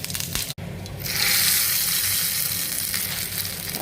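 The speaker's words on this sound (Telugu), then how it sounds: "చట్నీ తాలింపు వేసుకుందామండి" Mustard seeds, cumin and curry leaves hit hot oil in a pan for a chutney tempering, setting off a loud steady sizzle close by after a brief pause, with no talk.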